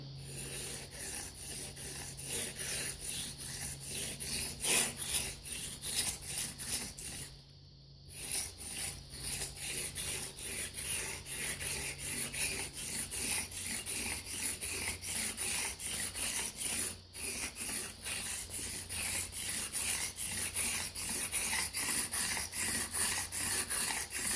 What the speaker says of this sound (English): we're going to do 40 laps in each direction. We're going to try to set the bevel on this razor.